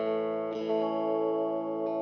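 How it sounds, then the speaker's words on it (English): A Travis Bean TB500JG electric guitar plays through a distortion effect, sustained chords ringing thick and saturated, with two fresh attacks midway and near the end, loud and close with no voices. "Sounds like distortion, right?"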